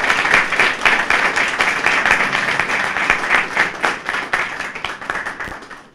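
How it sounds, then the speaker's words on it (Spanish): Seminar audience in Chile claps together in a dense round of applause that runs steadily, then thins into individual claps and trails off near the end, with no talking. "Les pido un aplauso"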